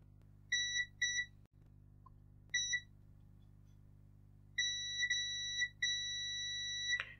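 A multimeter set to continuity beeps while probing the shorted positive and negative rails of a faulty USB double socket: short high beeps in a broken pattern, then longer steady tones, loud and close over a faint mains hum.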